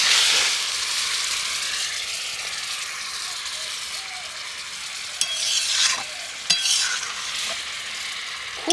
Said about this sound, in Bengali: আর আজকের আমগুলো কিন্তু এই গুড়েই ফুটবে এবং গুড়ের মধ্যেই সেদ্ধ হবে।